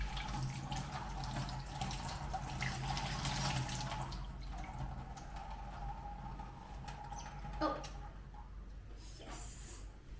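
Tap water runs into a kitchen sink while tomatoes are washed for a Burmese tea leaf salad, a steady splashing stream with faint handling sounds and a small clunk near the end, quiet and with no speech.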